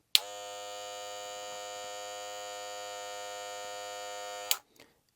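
A Wahl Black Magic Clip hair clipper with an upgraded motor runs with a steady, even high-pitched electric buzz for about four seconds, heard close and alone. A click marks when it switches on and off.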